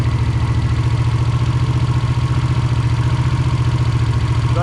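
An old Honda GL500 V-twin motorcycle engine, with freshly rebuilt carburetors, idles steadily with a lumpy, loping pulse, close and loud, running continuously without any talking.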